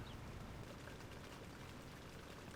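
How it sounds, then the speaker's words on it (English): Steady rain falls in a faint, even hiss of drops with no other clear sound. "Get out of this god-awful rain."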